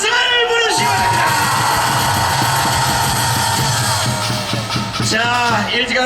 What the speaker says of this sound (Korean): 수고하신 우리 황동명 목사님께도 뜨거운 함성을 부르시기 바랍니다